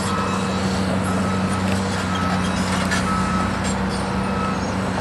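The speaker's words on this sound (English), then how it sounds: "We got one truck or one bulldozer that's on the move." Truck or bulldozer moving at the Tiger Stadium demolition site, with a steady heavy engine rumble and repeated reversing beeps over continuous outdoor construction noise, no talking.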